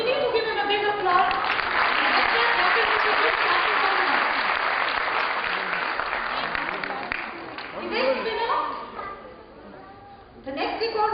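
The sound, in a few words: audience applause for record holder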